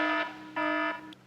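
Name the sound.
car forward collision warning alarm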